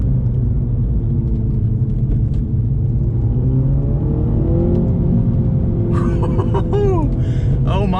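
A 2021 Mini Cooper JCW GP3 engine roars steadily as it accelerates hard, its pitch climbing in long sweeps, with a brief whine near the end.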